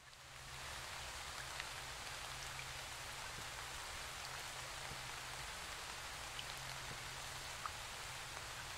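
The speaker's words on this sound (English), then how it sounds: "I can't do anything in the rain" Steady rain pours down in an Indonesian folklore horror video game, a dense even hiss of drops on surfaces that starts after a brief moment and holds constant throughout with no speech.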